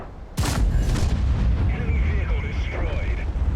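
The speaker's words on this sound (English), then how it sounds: "Now we're looking for a shot on this IS-4." A tank cannon shot in the World of Tanks video game, with an IS-4 tank as the target: one sudden heavy boom that rolls off into a long rumbling tail, with faint game sound effects after it.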